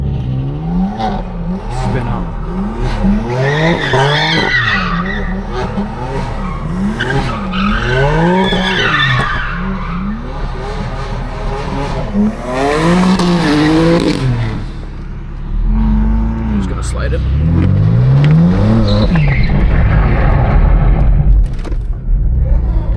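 A tuned BMW spins out on sticky black mountain asphalt, its tires screeching in long wavering squeals over a loud, revving engine that surges again near the end.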